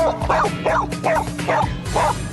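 A dog barks repeatedly, close and loud, giving about five yipping barks in a steady rhythm over a couple of seconds.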